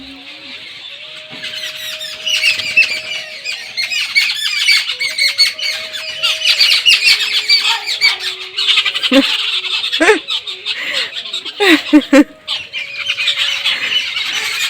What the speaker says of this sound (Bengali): এই যে আমার বারান্দা থেকে এই পাখিগুলো ডাকছে,